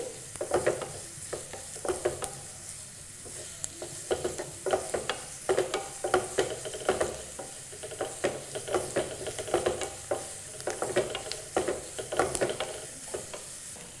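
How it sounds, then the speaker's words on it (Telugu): Sliced onions frying in hot oil for an onion-chilli ivy gourd curry, a steady close sizzle broken by repeated stirring scrapes and clinks against the pan, with no talking. "ఆనియన్స్ వేసి నూనెలో ఆనియన్స్ లైట్ బ్రౌన్ కలర్ వచ్చే వరకు వేయించుకోవాలి"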